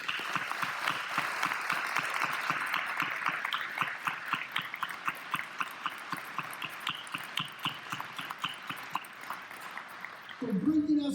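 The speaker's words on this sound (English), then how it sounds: "Let's all give Chris a round of applause." Sustained audience applause at a celebration-of-life memorial gathering, steady clapping from a crowd that thins into scattered individual claps before ending, with a voice starting up at the close.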